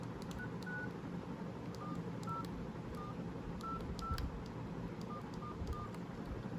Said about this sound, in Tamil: இல்லை, நம்பர் டைப் பண்ணிவிட்டு வரேன்.